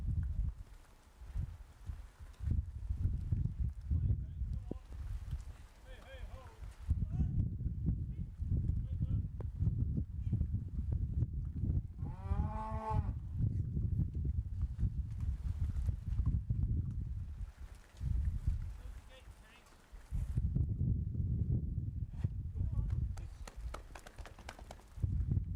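A herd of dairy cows being moved across a road into a farm, with a heavy, continuous shuffle of hooves and rumbling movement, a brief animal call midway and people talking at times.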